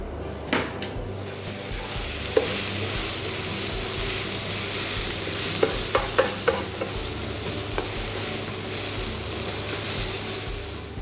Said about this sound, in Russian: Лук надо будет обжарить до чуть карамельного цвета.